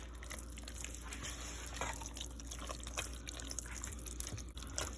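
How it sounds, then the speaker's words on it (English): Milk poured into a rice and broccoli casserole and stirred, giving a soft steady liquid trickle with faint drips and scraping clicks, quiet and close. "I'm gonna go ahead and just pour a little bit more of my milk in there and stir."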